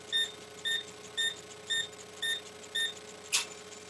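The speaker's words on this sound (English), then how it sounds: "And the light will flash, and it will be beeping." A Parkzone radio transmitter, just switched on, gives a steady series of seven short, high electronic beeps at an even rhythm, close and clear over a low background hum, followed by a brief click.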